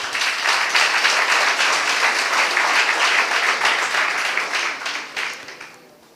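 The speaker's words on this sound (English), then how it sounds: "Round of applause." A conference-room audience at an entrepreneurs' chat event breaks into dense, steady clapping that holds strong for several seconds before thinning and fading out at the end.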